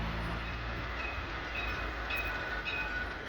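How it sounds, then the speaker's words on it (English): The number 7 tram pulls into Kalamaki in Athens with a low, steady rolling rumble and faint wheel squeal, a quiet continuous rail sound with some distant street noise. "a gratuitous shot of the number 7 tram"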